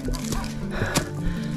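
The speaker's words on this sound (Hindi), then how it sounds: "उधर कुत्ता भौंक रहा है" A dog barks several times at a distance in a village beside a cricket ground, the barks light and spread across the moment against outdoor ambience and a steady low hum.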